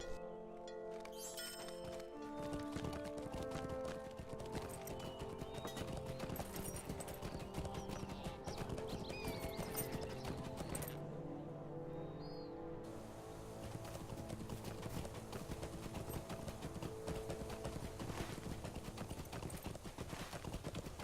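Video game horse hooves clip-clop steadily at a trot over a layered musical background, a continuous rhythmic clatter that carries through the whole stretch.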